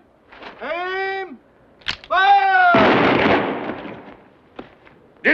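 A firing squad's rifle volley in a western movie, Rio Conchos, lands as one loud, rough burst right after shouted commands, then fades to quiet.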